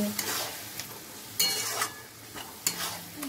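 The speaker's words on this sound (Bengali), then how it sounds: "একটু মশলাটা কষানো হোক" Ginger-garlic spice paste with turmeric and salt sautéing alongside tomato and capsicum in a pan, a soft sizzle broken by several sharp spatula scrapes and stirs, no talk.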